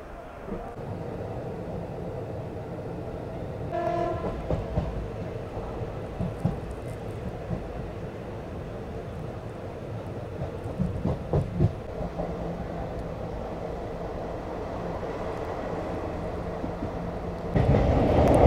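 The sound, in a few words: train running on tracks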